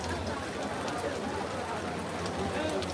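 Steady rain falls over an outdoor Eid cattle market at Dewan Bazar in Bijoynagar, Brahmanbaria, a dense continuous hiss with faint background voices mixed in throughout.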